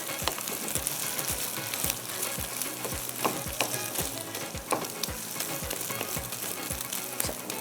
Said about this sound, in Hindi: ज़रा भुनाई कर लेंगे ना ब्रेड की तो ज़्यादा अच्छा आपको टेस्ट लगेगा।